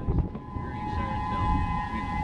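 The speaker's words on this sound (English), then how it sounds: "They will sound the sirens now." An outdoor civil-defense storm warning siren in Bemidji, heard from a mall parking lot during a thunderstorm, a steady sustained tone held over low rumbling background noise.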